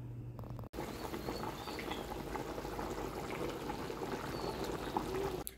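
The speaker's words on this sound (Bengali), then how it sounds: "তো এক হাঁড়িতে গরুর মাংস রান্না হচ্ছে," Beef curry simmers in a cooking pot, a steady bubbling, gurgling wash that holds at moderate level after a brief quieter opening, with no speech.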